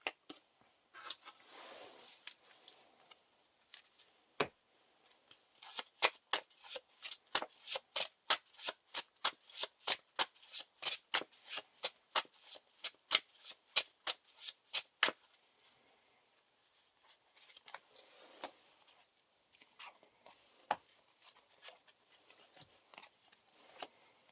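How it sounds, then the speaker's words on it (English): Playing cards being shuffled for a Lord of the Rings living card game, a long run of crisp riffle snaps in rapid rhythm, preceded and followed by softer card handling, close and fairly quiet with no talk. "shuffle the encounter discard pile into the encounter deck"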